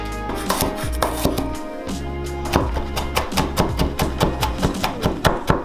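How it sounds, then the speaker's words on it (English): A knife chops garlic rapidly on a cutting board, the strikes quickening into a steady, close rhythm of sharp knocks. "The garlic, I'm just going to do the same thing, chop it nice and small."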